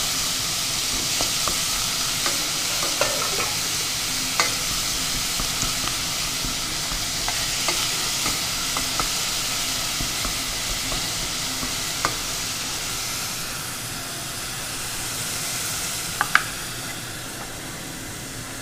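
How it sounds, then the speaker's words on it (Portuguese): Ground beef sizzles loudly in a hot pan with olive oil, a dense continuous frying hiss broken by occasional scraping stirs and taps of a utensil, steady throughout with no talking. "E vou começar a soltar a carne moída."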